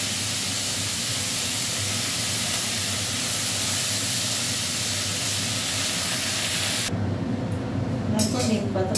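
Neem leaves fry in hot oil with a loud, steady hiss and sizzle that drops off abruptly near the end, leaving a few faint clinks.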